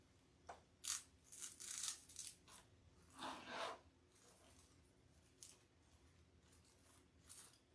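Scissors snip through artificial floral stems for a cross-shaped wreath, giving several quiet crunchy cuts and rustles spaced irregularly, close by but faint, with no talking.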